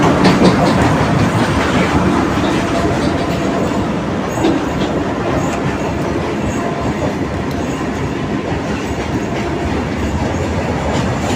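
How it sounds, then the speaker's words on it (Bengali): A train passes right alongside, a loud continuous rumble with clickety-clack wheel rhythm and some rail squeal lasting throughout. "পাশেই একদম ট্রেন যাচ্ছে।"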